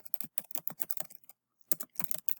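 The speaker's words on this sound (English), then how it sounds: "Sorry about this, my typing." Fast, irregular keystrokes clatter on a computer keyboard, a quick run of taps, a brief pause, then another burst of typing, close and fairly quiet.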